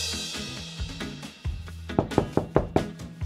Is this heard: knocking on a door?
yes